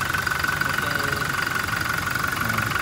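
A 2020 Toyota Kijang Innova Reborn V facelift with a 2.4 engine and automatic transmission idling up close, a steady even diesel-like clatter and hum with no variation in pace.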